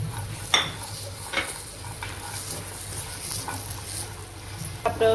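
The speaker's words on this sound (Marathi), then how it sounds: "टाकू खोबरं, खोबरं भाजून घ्यायचं छान।" Grated coconut roasting in a pan for a mutton masala, with a low steady sizzle and repeated scraping stirs of a spatula against the metal, close and continuous with no talking.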